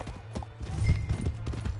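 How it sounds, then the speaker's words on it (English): Horse hooves clip-clop in the Red Dead Redemption 2 video game, a steady run of close, fairly loud footfalls over a low rumble, with no talk during the passage. "Hey, that's my horse!"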